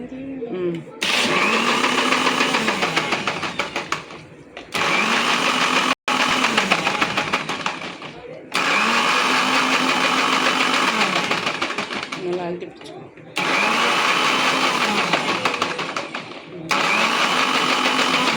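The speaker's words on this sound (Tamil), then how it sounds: "மிக்ஸி ஜாரில் அடிக்க போகிறாங்க, நல்லா கரெக்டாக வை." A mixer grinder blending lemon mint juice whirs loudly in several long bursts with brief pauses between, while someone speaks briefly over the motor.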